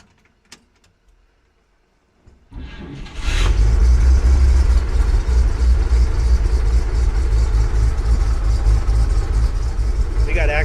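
A 1946 Chevy dump truck's 216 engine cranks after a quiet pause, catches and settles into a steady, loud, rumbling idle that continues to the end.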